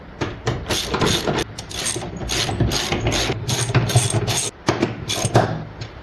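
Ratchet wrench tightening wheel bolts on a Porsche Cayenne being fitted with new wheels, a steady run of rapid metallic clicking bursts with brief pauses, close and loud.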